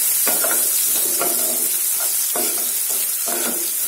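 Onions sautéing in hot oil for pav bhaji, a steady bright sizzle throughout with several close bursts of spatula stirring scraping through the pan at regular intervals.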